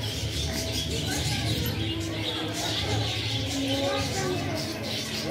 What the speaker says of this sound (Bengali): আর পাখিগুলোর গলার আওয়াজগুলো দেখলেন, কি মিষ্টি, কি যেন সুন্দর।